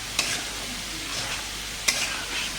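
Potato pieces frying quietly in a pan give a soft, continuous sizzle. Two sharp utensil clicks from stirring cut through it, one early and one near the middle.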